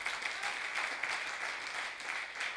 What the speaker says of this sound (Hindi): ताली बजना चाहिए एक बार